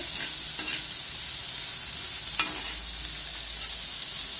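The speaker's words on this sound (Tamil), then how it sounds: "போட்டதுக்கு பிறகு வெங்காயத்தை வதக்கி விட்டு" Onions sauté on the same cast dosa griddle, giving a steady, close sizzle with a few soft stirring scrapes over it. No one speaks.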